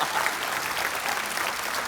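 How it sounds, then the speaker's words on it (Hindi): Loud, dense applause from a television comedy show studio audience, steady and sustained throughout with no pauses. "जोरदार तालियां लेने के लिए।"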